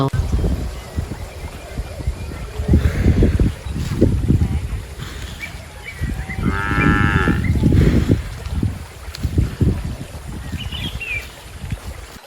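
A cow lowing in a farm setting, several long, deep moos rising and falling over about twelve seconds, loud and close, with a faint background hum.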